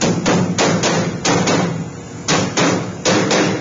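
A screwdriver knocks the fourth side of a sheet-metal duct plenum into place: a series of sharp, loud metallic taps and thuds, close up, in uneven bursts of two or three, with no talking.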